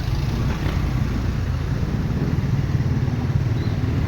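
A motorcycle rumbles past on a road near an intersection, its steady engine drone loud and close against continuous traffic noise, with no talking.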